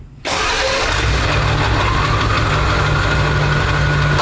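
A 7.3L Powerstroke diesel engine cranks and fires almost instantly, then settles into a loud, steady, close idle with a rough rumbling clatter that continues to the end.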